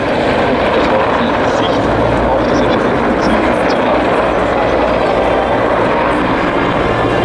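A Czech Mi-35 Hind helicopter flying a solo display at an air show, a loud, continuous rotor and turbine roar with rough low throb, steady throughout, with talk heard over it.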